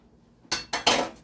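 A metal spoon is rinsed and handled at a kitchen sink while pumpkin soup with chicken feet and back is being made, giving three quick, close clinks and clatters over running water.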